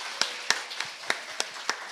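A church congregation at Sunday worship claps in a sparse, steady rhythm of about seven sharp claps. The claps sound fairly faint and thin, like a small group rather than full applause.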